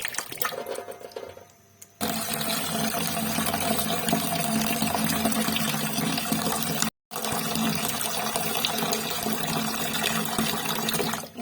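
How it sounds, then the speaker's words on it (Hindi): Water runs steadily into a bowl of freshly cut potatoes being prepared for chips, a continuous close splashing and rushing, broken briefly by a short gap, with no voices over it. "तो अब इनको जो है पानी में डाल देते हैं आलूओं को।"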